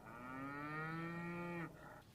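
Newborn beef calves on a ranch in Parowan, Utah let out a single drawn-out moo, close and clear, followed by faint background noise and no talking.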